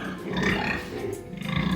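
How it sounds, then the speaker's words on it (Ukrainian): A piglet grunts steadily while feeding after being taken from the sow, soft low snuffling grunts running continuously over a dense, close background of farm-pen noise. "Так, ось все, поросятка вже харчується."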